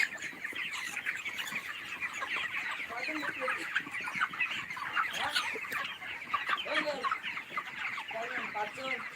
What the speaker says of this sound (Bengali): চার হাজার ব্রয়লার মুরগি এখানে আমি পালন করতেছি